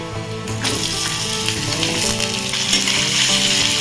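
Sliced potatoes and raw peanuts frying in hot oil with ginger for sago khichdi, a loud steady sizzle with light stirring scrapes, no talk.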